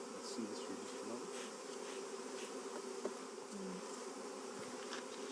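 Honeybees buzz steadily around a hive near a black sage bush in California, a dense, even insect drone filling the whole stretch with no talking.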